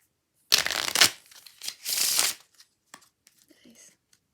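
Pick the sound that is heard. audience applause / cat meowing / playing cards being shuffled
playing cards being shuffled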